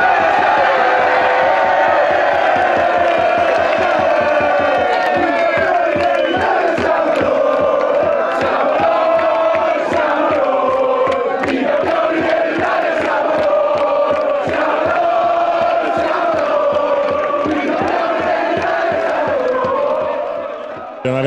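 Reyer Venezia basketball fans gather at night outside Palasport Taliercio after the Italian championship, chanting and cheering in a loud, sustained roar with rhythmic clapping and whoops throughout.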